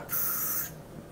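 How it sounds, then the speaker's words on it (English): Hairspray is sprayed at the roots of the hair as a single close, sharp hiss lasting about half a second before fading to quiet. "If you need to spray because you don't think the style will stay, this is how I spray my hair."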